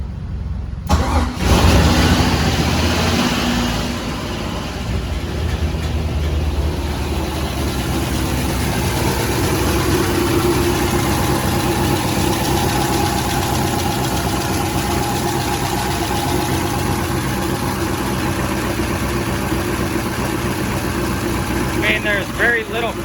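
A turbo LS engine swapped into a Miata cranks and catches, then settles into a loud, steady rumbling idle close by, with a faint ticking sound near the end.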